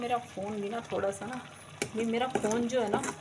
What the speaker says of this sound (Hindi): और इनमें लगा रही हूँ मैं तड़का।